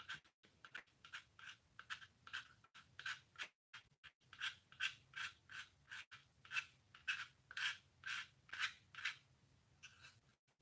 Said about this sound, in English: With this, I'm going to scrape it a bit.